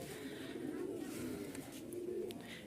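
Lahori Sheerazi pigeons coo softly and continuously at a pigeon market in Rajshahi, a low, rolling murmur with faint voices in the background.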